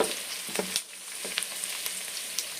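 Onions frying in a pan for tamarind rice, a quiet, steady sizzle with a few soft scrapes and clicks as they are pushed aside, no voices.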